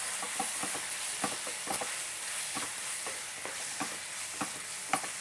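Squid being stirred in a sizzling pan with a paste of ground coconut, chili, shallot and garlic for koonthal peera, a steady frying hiss broken by repeated soft scraping strokes of the spoon.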